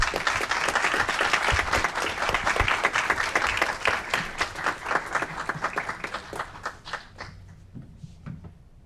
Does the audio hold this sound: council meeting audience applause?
yes